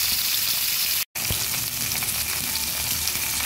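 Pieces of katla fish sizzle steadily in hot oil, a dense, even hiss of frying that holds throughout, broken by a brief cut partway through, with no voices.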